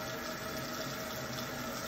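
Warm water runs from a sink tap in a steady, even stream, continuous and close, with no talking over it.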